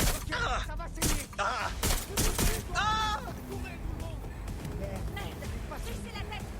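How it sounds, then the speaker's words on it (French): Bursts of gunfire aimed at the player in Watch Dogs Legion crack out in quick clusters early on, mixed with game dialogue and other voices talking over the action. "Vermine nous tire dessus."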